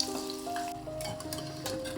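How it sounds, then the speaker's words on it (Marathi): Chakli, a crisp rice-flour and potato snack, fries in hot oil beside a little curry leaf, giving a quiet, close, bubbling sizzle with a few faint ringing tones and clicks in the background. "दुसरी चकली आपण अशाच पद्धतीने तळण्यासाठी घालून घ्यायची"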